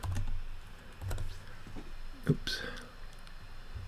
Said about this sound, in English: and then type in a location